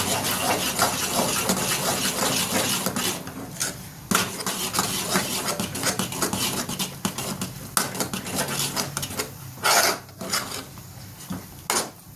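Ragi sangati is stirred in a pot on a gas stove with a ladle, making continuous thick rubbing and scraping strokes, close and busy, with occasional knocks and brief pauses.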